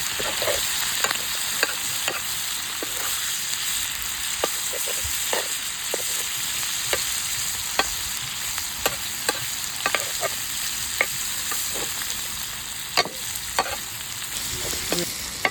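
Steady crackling sizzle of squid frying in hot oil, with frequent sharp pops and spatters scattered throughout, no voices.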